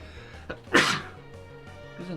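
One sharp, loud sneeze bursts out close to the microphone over faint background game music, with a bit of voice around it.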